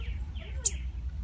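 A mother bird in a backyard garden gives one short, high chirp, faint and brief, over a low ambient hum with no talking.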